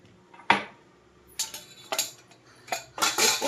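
Tea dishes and utensils are gathered and cleaned up at home, giving a few sharp metallic clinks and clatters, one louder knock and then a quick burst of rattling, all close and without talk.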